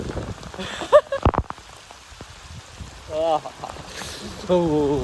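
Heavy morning downpour drums steadily on surfaces outdoors, a dense wash under intermittent talking and brief bumps, with voices rising over the rain near the middle and end.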